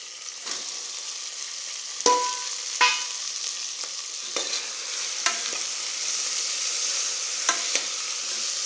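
Onion, tomato and vegetables sizzling steadily in a hot pan for sambar rice, with a utensil stirring and scraping against the pan in several sharp, irregular strokes over the continuous frying hiss.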